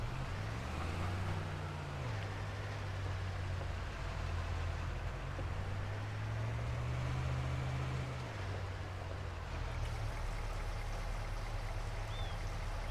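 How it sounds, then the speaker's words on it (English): Water fills a cattle trough in the Farming Simulator 25 video game, a steady continuous rushing pour over a low engine-like hum that runs the whole stretch without pause. "let's just get the cows sorted with some water here"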